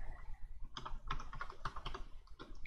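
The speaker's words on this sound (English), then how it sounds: "And you need to type in disk part." Quiet, close computer keyboard typing in a short run of quick, uneven keystrokes, entering a command on a PC during an MSI B450 Tomahawk BIOS update.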